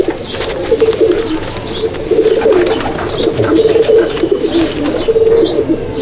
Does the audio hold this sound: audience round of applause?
no